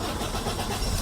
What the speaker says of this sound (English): Let me start the car for you to see.